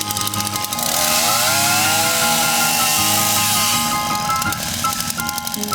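Chainsaw cutting solid branches from a fallen tree, engine roaring loud and close throughout, its pitch dipping and rising as the chain bites into the wood.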